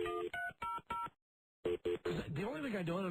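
A telephone, one of a studio's phones newly revamped in 2001, is dialed with four quick keypad tone bursts at a steady rhythm, then a brief silence before people start talking.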